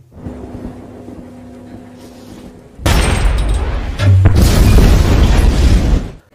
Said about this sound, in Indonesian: Setelah terjadi ledakan, mereka bergegas kabur dari sana